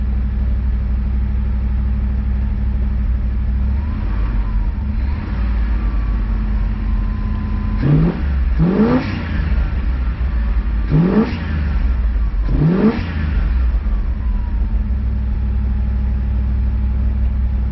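Trans Am V8 engine with a new camshaft idling around 1500 RPM with a steady loud rumble, punctuated by several quick throttle blips that rev up and fall back, close and alone.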